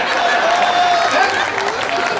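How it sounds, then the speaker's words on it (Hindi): An audience claps at a Hindi comedy poetry gathering in Delhi, dense, steady applause from a large crowd filling the hall with continuous broadband patter, with faint voices mixed in. "अब भाई साहब ये वही लोग ताली बजा रहे हैं जिनका मन मेरे मन से मिलता है।"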